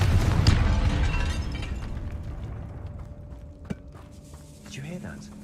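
A Confringo spell explosion in the video game Hogwarts Legacy bursts loudly at the start. A rumbling, mechanical tail fades over the following seconds, broken by a sharp click and a later swell of game sound.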